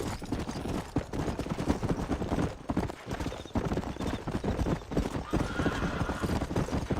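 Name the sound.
horse galloping and whinnying in the video game Red Dead Redemption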